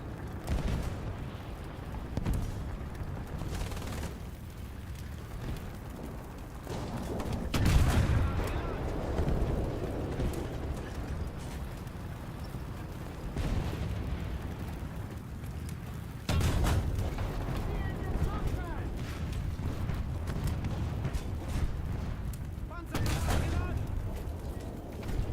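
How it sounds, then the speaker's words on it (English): Explosions and gunfire in War Thunder, a tank battle game, with heavy booming blasts recurring every few seconds over a dense rumbling battlefield din, loud and close throughout. "So you're telling me an explosion like this is not enough to injure people in the turret?"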